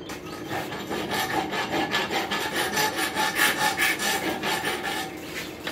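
Steady back-and-forth strokes of a rasp filing a rail spike held in a vise, smooth side of the rasp in use, a regular scraping rhythm about two strokes per second with no talk.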